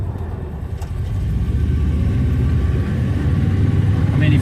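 Ford Zephyr MKIV with its V4 engine, driving along: a loud, steady low rumble that swells slightly as it pulls, with lumpy engine throb and road noise throughout, no talking.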